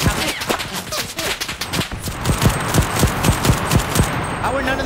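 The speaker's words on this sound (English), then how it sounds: "Somebody else is shooting at me." Rapid bursts of gunfire in the online shooter CRSED crackle through the whole stretch, dense and close at first, then settling into a steady run of evenly spaced shots, with a voice talking over it.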